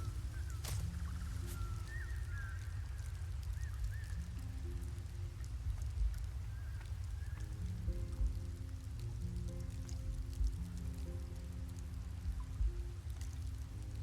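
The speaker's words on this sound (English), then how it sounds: "I should probably not be standing out in the rain" Steady rain falling in the video game Sky: Children of the Light, a continuous soft hiss with patter throughout, joined by low sustained musical tones and faint chimes in the background.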